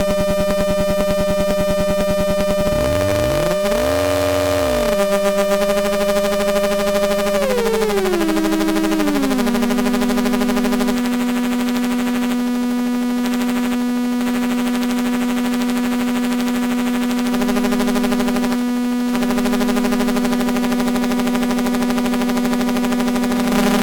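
Exotic synthesizer oscillators in a demo, heavily aliased: a buzzy, harmonically dense drone whose pitch wobbles and sweeps early on, then glides down and settles into a steady, harsh tone that holds loud to the end.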